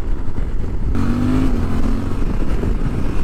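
A 2023 Suzuki V-Strom 800 SE motorcycle's engine opens up, a close, loud growl that swells into a rising rev after a brief rumbling start, then carries on steadily.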